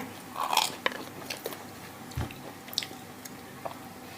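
Someone bites into and chews salami pizza up close, with a series of soft crunches and wet chewing sounds at an uneven pace in a quiet room.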